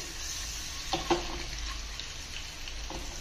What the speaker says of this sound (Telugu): ఇలా కొద్దిసేపు పాటు ఫ్రై చేసుకుంటే ఉప్పు కారం మంచిగా అయిపోతుందండి గుడ్లకి